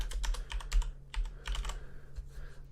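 Close, crisp typing on a computer keyboard while entering names into broadcast graphics software, coming in quick clusters of keystrokes separated by short pauses, with a low steady hum underneath and no speech.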